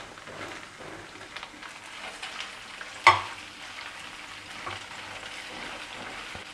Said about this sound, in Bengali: যে লঙ্কাগুলো চিড়ে রেখেছিলাম এবার এটাকে দিলে হালকা ভেজে নেব